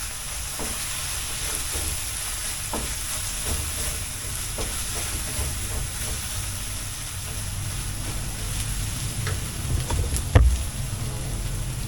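Beef cubes sizzle steadily in a frying pan alongside corned beef and hotdog, a dense close hiss with occasional stirring scrapes and a louder clatter near the end.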